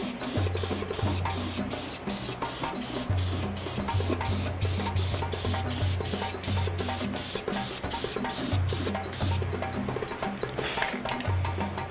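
Aerosol spray paint hisses in steady bursts onto a PVC pipe drum, a continuous close-up spray with a regular pulsing texture and low mechanical hum underneath, no talking.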